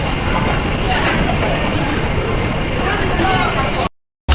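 An MTR train on Hong Kong's Tung Chung Line rumbles steadily with a continuous roar and rattle, loud and close throughout, cutting off abruptly near the end.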